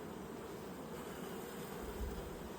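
Worker honey bees humming at an open hive, a faint, steady buzzing drone that holds evenly throughout with no voices.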